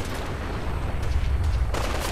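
Gunfire in Fallout 4 during the Battle of Bunker Hill, a dense burst of rapid shots and rumbling impacts, loud and continuous, with a sharper crack near the end.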